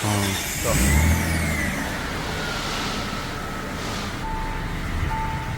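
An old car's engine idles steadily after a rough start, a low rumbling drone with a whining tone layered on top.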